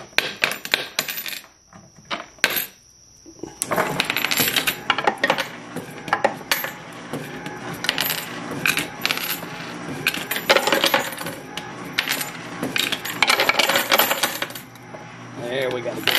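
Metal coins clatter and jingle without pause in a Batman coin pusher arcade game, with dense bursts of drops spilling over one another, loud and close, and a brief lull near the start.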